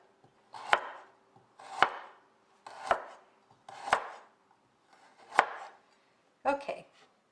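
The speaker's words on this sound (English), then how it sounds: "now we want to cut long, even slices all the way across the carrot" A knife cuts long, even slices across a carrot on a cutting board, giving six crisp, evenly spaced chops at close range with quiet pauses between strokes.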